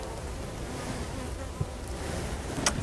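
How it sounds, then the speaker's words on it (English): A low, steady buzz of honeybees hums close by during a hive inspection, continuous and slightly droning, with a couple of faint clicks near the end. "Careful, there's bees on this."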